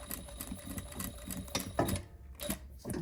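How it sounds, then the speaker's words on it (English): A sewing machine runs back and forth, stitching over zipper tape on a fabric makeup pouch. Its rapid mechanical whirring comes in close, steady bursts with brief pauses and clunks as the machine reverses. "I'm going to sew over it, and then I'm going to back up over it"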